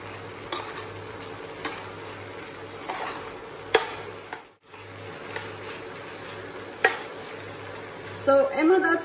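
Dried white chilies and fermented soybean cook in a pan for Bhutanese ema datshi, with a steady soft sizzle and a few spoon scrapes and knocks as the mixture is stirred.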